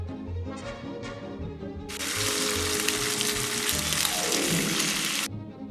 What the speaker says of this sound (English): Grade A quality beef. Hot, sizzling, spicy.